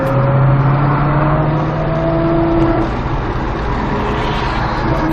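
A Ford Mustang Shelby GT500 accelerates on a track, its engine a loud, steady roar with a rising tone that holds close and continuous throughout.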